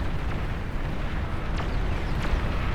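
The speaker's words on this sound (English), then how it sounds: "The plasma cannons landing, fighting till the bitter end." Plasma cannon shots landing in a large real-time strategy battle, a dense continuous rumble of distant explosions with a few sharper impacts cutting through.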